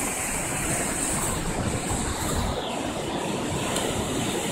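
Rough ocean surf after storms breaks and washes continuously, a dense, roaring rush of waves with no voices heard.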